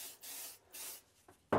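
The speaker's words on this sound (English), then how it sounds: "spray the activator on it" CA glue activator sprayed onto cardboard strips in a workshop: two short hissing aerosol bursts close by, then a sharp louder knock or click at the end.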